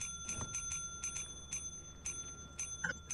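A bell rings repeatedly in the video game Lethal Company, with evenly spaced metallic strikes that sound faint and thin against low background noise.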